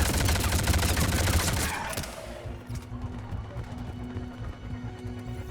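Rapid gunfire in Mass Effect 3 rattles in dense bursts for about two seconds, then drops away to quieter game ambience and a low hum.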